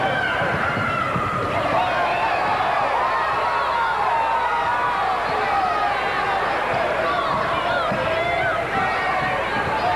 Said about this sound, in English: The crowd for Tennessee State has even picked up quite a bit here.